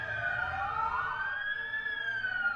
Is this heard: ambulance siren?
yes